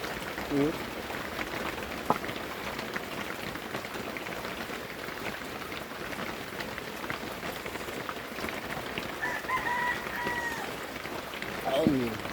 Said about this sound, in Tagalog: Grabe, lakas ang ulan guys.